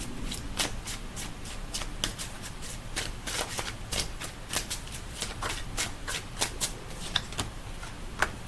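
A deck of tarot cards is shuffled by hand, close up, in a run of quick riffling bursts and soft slaps repeating every half second or so, with no talking.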